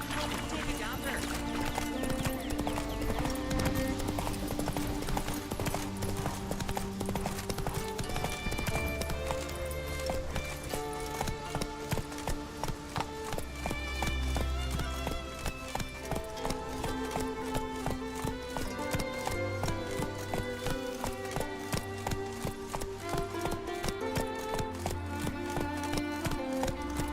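A horse gallops in The Witcher 3, its rhythmic hoofbeats pounding close and steady under continuous game music, with a voice speaking briefly.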